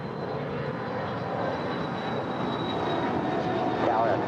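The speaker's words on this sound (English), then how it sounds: "And this is NetJets 220 off to Dallas Love Field. It's a Bombardier Challenger 650." A Bombardier Challenger 650 business jet taking off at LAX, a steady broad engine roar with a thin high whine, loud and sustained at a distance across the airfield.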